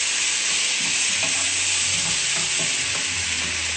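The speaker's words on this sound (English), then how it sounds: "I'll give it a stir." Aubergine and onions fry in a pan with peppers and tomatoes, making a loud, continuous close sizzle, with a few soft stirring knocks and scrapes underneath and no talking.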